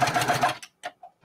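A sewing machine stitches quilt binding on a mini-quilt, with a short fast burst of close mechanical whirring and then a few isolated clicks and taps as it stops.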